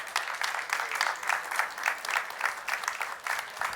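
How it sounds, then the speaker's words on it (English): An audience at a tech summit startup competition gives a round of applause, crowd clapping swelling and easing in rhythmic waves, moderately loud and without talk. "let's give the entire ecosystem, the organizing team and the startups another round of applause"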